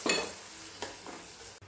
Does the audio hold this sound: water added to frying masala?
yes